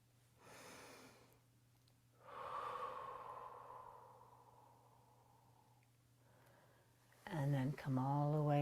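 Slow, audible breaths are taken during a Pilates stretch, with a short exhale followed by a longer, airy outbreath that fades gradually, then a voice speaks at the end over a low steady hum.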